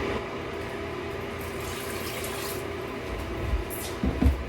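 Vinegar is poured into a measuring cup as a steady liquid trickle for several seconds, then a few louder splashes and knocks at the end, with no talking.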